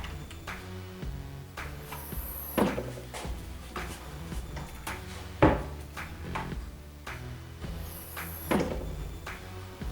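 A kitchen wall cabinet door with a soft-close damper, graphite pine finish, eases shut with several quiet wooden knocks and clicks spread over the stretch, faint and close against a low background.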